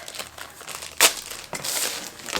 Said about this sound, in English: Let me unwrap this so you can actually see what I'm talking about.